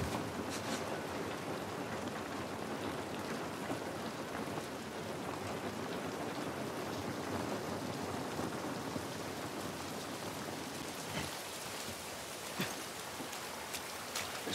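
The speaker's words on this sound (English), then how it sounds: "This rain ain't gonna do us any good." Steady, dense rainfall in the video game The Last of Us Part I patters down continuously, a close, even hiss of drops with a few sharper splashes and no voices.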